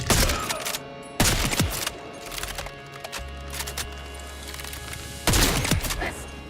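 Gunfire in Borderlands 4 on PS5 arrives as several loud bursts of rapid shots separated by brief lulls, with a low droning hum running underneath.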